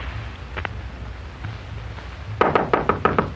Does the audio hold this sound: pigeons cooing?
no